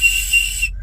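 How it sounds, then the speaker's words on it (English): A survival kit whistle gives one steady, shrill blast lasting under a second, sharp and close, then cuts off abruptly into silence. "but this also has a whistle"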